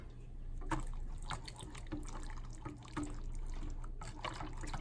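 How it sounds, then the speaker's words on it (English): A rum glaze of Bacardi rum is stirred in a pot, giving a continuous, close liquid swirl with faint spoon taps against the side at a few intervals. "All right, let's give this a stir."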